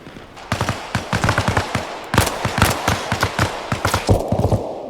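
Rapid bursts of automatic and single-shot gunfire in the military shooter Arma Reforger, loud and close, firing in quick clustered volleys across the whole stretch with brief gaps between bursts.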